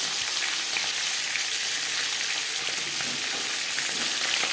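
Pieces of kalbasu, a freshwater fish, fry in a little oil in a pan, giving a dense, even sizzle that stays loud and unbroken throughout.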